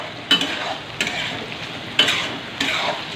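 Radish, papaya, carrot, beans and peas frying in a pan for shukto, a steady sizzle broken by four sharp knocks and scrapes as the vegetables are stirred.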